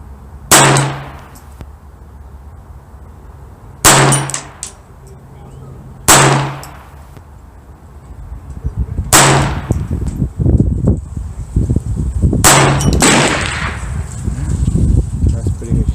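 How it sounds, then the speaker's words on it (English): Five sharp .22 pistol shots from a Browning Buck Mark handgun fired at a target 25 yards away on a range, spaced a couple of seconds apart, each a crisp loud crack with a ringing tail, over low background noise. "I'm gonna take 5 shots at 25 yards on the middle target"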